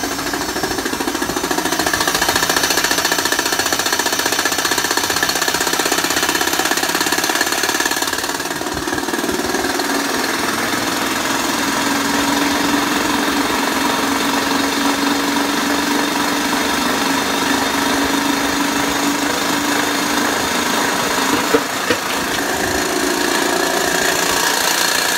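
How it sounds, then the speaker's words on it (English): A Dyson CR01 washing machine with gearbox trouble runs hard, giving a loud, continuous grinding, rattling mechanical roar with a steady knocking texture throughout, close and without talk. "Sounds like gearbox trouble."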